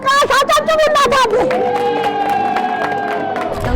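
An audience at a televised second-birthday celebration cheers and claps loudly around the birthday girl, with whoops and lively crowd noise that settles into a steady, sustained roar.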